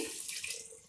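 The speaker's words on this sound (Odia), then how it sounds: "ଦୁଇ ଗ୍ଲାସ୍ ପାଣି ଦେଇ ଦେଉଛି" Water pours steadily into a cooking pot for lentil dalma in an Odia kitchen, a close, continuous splashing stream with no talk.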